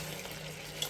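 Chicken in curd with potatoes frying in a pan without water, a quiet steady sizzle with faint stirring and a small scrape near the end, close but soft.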